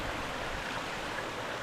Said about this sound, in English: Here comes some stream crossing time.